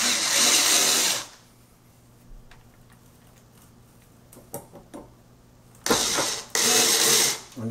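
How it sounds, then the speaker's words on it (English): A power screwdriver drives small screws into the rail of an IKEA Micke drawer unit, with a long whirring burst, a quiet pause with faint clicks and taps, then two more loud whirring bursts close by. "And now you can go ahead and insert your three screws when you line up the holes."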